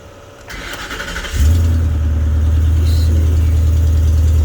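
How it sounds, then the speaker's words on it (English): A Ford truck engine cranks and starts, then settles into a loud, rumbling idle with a rough, raspy exhaust note from a hole in the exhaust, close by and continuous. "As you can hear, we gotta do the exhaust on this thing. It's got a hole in it."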